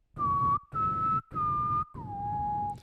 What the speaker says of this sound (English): Can we get a whistle?